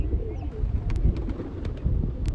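Pigeons coo in a loft under a low rumbling background, soft repeated coos close by with a few faint chirps.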